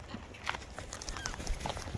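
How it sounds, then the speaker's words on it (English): Lorikeet calling at close range in a flock of birds, with sharp, raspy chirps and squawks scattered over two seconds against busy background bird noise. "There's a lorikeet sitting on my phone being a handy bird."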